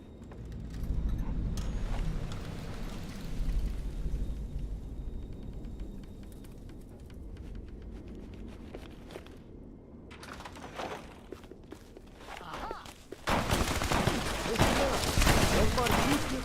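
Bursts of distant gunfire crackle through a murky Fallout: New Vegas soundscape, growing louder and denser near the end, with voices talking underneath.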